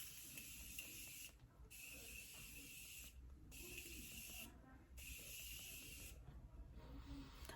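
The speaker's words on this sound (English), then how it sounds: "So I'm going to spray this all over my face." Morphe Continuous setting spray misted onto a face: three or four long, even hissing bursts in a steady rhythm, close and faint, separated by short gaps.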